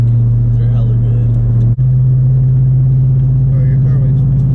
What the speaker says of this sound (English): your car makes too much fucking noise